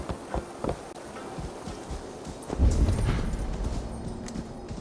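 Horse hooves clip-clop in Assassin's Creed Valhalla, a few soft hoofbeats early on before a louder rumbling swell of game sound takes over.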